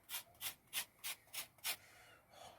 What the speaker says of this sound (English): just grate a little bit of lemon zest over the top